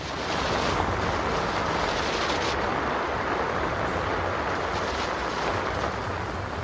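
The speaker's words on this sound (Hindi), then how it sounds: "डैम से गिरता मटमैला पानी देखने में तो काफी खूबसूरत लग रहा है" Muddy floodwater rushes and pours down from a dam during flooding in Gujarat, a steady, dense roar of churning water that stays loud and unbroken throughout, with no voices.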